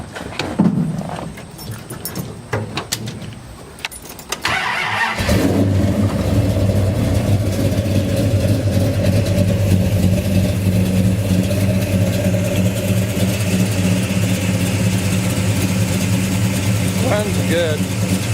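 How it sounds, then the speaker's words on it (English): A 1969 Dodge Dart with a 440 V8 and homemade headers cranks for several seconds with faint knocks, then fires and settles into a loud, steady, deep rumbling idle that continues to the end. "I'll crank it up and let you listen to it."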